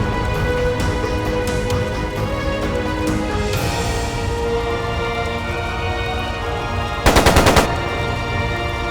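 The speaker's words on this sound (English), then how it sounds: "It sounded like a machine gun." Video game machine gun fire in The Legend of Heroes: Trails of Cold Steel II, a steady background of gunfire with one sharp, loud rapid burst of several shots near the end.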